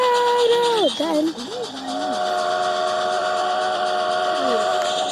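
The steam whistle of a runaway cartoon train gives a loud falling shriek, then wobbles and warbles before settling into a long, steady hissing tone, with excited voices heard over the sound.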